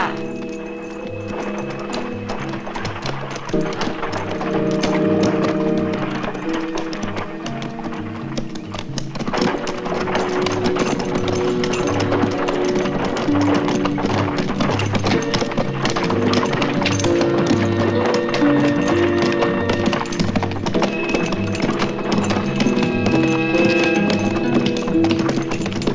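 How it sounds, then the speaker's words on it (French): Horses trot with steady clip-clopping hooves while pulling a cart, in a 1973 French-dubbed western; the rhythmic hoofbeats run throughout under a continuous musical score. "Va chercher la charrette et amène-la au puits. Va aussi nous chercher les chevaux et attends-nous."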